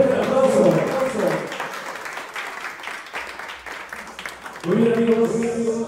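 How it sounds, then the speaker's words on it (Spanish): Applause from guests at a birthday celebration rises in the middle, a dense burst of clapping between stretches of an amplified announcer's voice and music at either end. "quiero escuchar antes de dar inicio un fuerte aplauso de parte de todos los presentes"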